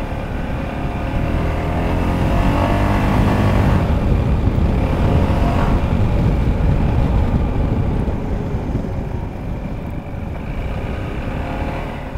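A 2023 Peugeot XP400 GT motorcycle rides on a test ride, its engine and wind rush loud and steady throughout, swelling slightly midway before easing off.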